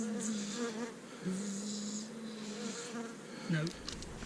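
Honeybees give a loud, droning protest buzz as their hive frames are pushed together, the pitched hum wavering and swelling close by.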